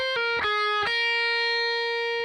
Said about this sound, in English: what I'm doing here is a hammer-on pull-off, going 7, 9, 7 on the 1st string